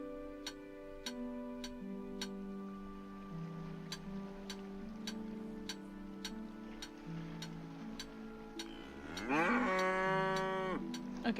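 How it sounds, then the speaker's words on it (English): A cow moos in a video game, a loud drawn-out call rising near the end after a steady musical backdrop with regular ticking, no talking. "that cow sounds mad."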